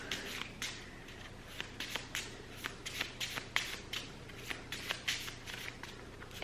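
A deck of cards is shuffled, a series of crisp riffling bursts and sharp snaps repeating in quick succession, close and distinct against a quiet background.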